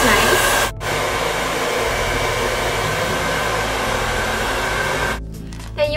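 Hair dryer blasting air at close range, a loud steady broadband roar that briefly cuts out near the start and drops in level toward the end.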